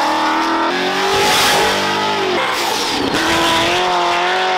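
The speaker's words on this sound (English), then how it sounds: "Do you like cars that sound like this?" Muscle car engine revving hard outside a car show, loud rising and falling roars with a brief tire squeal as it pulls away, no talk.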